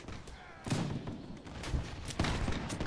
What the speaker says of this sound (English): Well, that's one of our cannons just fired.